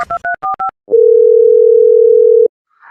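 A few short, clipped tone beeps come first, then a steady telephone dial tone hums loud and unbroken for about a second and a half before cutting off.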